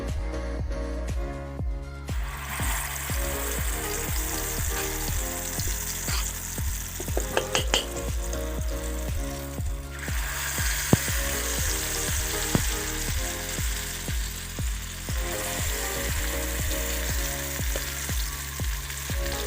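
Night jasmine flower fritters frying one by one in hot oil in a wok, a continuous close sizzle with regular bubbling crackles, no talking.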